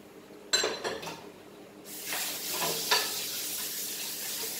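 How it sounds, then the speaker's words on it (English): Masala roasting in a pan with mutton, with a sharp clink at the start, then scraping and stirring over a steady sizzle, close and fairly quiet with no talking. "now my next procedure is I want to roast this masala"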